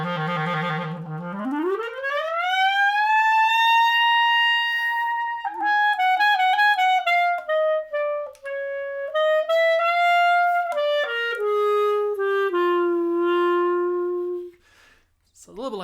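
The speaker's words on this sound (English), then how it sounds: "The lip gliss is probably the party trick of all party tricks for the clarinet" A clarinet plays a smooth rising lip glissando from a low note sweeping up to a sustained high tone, then a run of shifting held notes ending on a lower settled pitch, solo and close, in the style of the Rhapsody in Blue opening.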